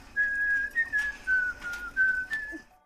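A single person whistles a short, slightly wavering high tune, close and clear, with brief pauses between phrases.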